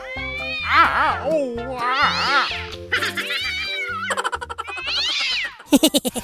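A cat at a sporting event meows repeatedly in drawn-out, wavering cries, loud and close, with a few shorter calls and a burst of crowd noise near the end.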